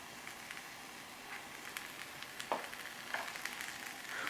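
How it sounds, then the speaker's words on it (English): Food sautéing in a pan while basmati rice is prepared, a faint continuous sizzle and crackle with a few louder pops, quiet and close, no one speaking. "Once these begin to sizzle a bit,"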